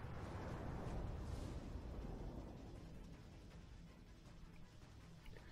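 The German battleship Tirpitz fires its guns in World of Warships, a heavy booming rumble that rolls in loud and slowly fades away with no voices.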